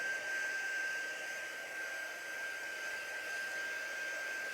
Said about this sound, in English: Dry the rest of my stamp too.